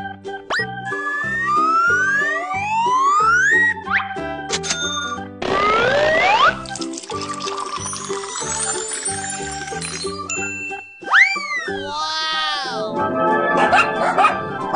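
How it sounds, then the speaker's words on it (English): Cartoon dog barking in a children's animation, with loud yappy bow-wow barks mixed into bright music, jingles and sliding sound effects that play throughout. "Dog."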